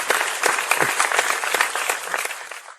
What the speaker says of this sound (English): Why not getting a round of applause, bruv?